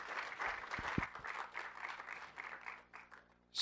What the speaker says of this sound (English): Could we give a round of applause to Jacob and Jobina, please?